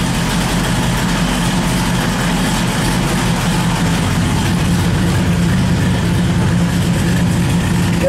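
A Chevrolet Monte Carlo SS454 big-block V8 idles after start-up, a steady, loud, deep rumble with a lumpy low-end pulse that carries on without a break, with no talking over it.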